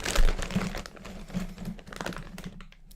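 A small plastic zipper bag from a toy is handled up close, with crinkling and crackling in irregular bursts that fade toward the end.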